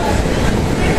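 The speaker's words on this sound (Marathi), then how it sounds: "एकंदरीत ही ट्रेन आहे" Interior of a general-class coach on the Vivek Express from Kanyakumari to Dibrugarh, a loud, dense rumble of the moving train, continuous for a brief moment.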